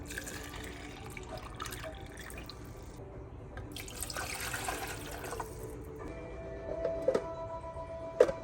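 Water running while coffee is made, a soft continuous trickle and splash with faint clinks and a couple of sharper knocks near the end, no talking.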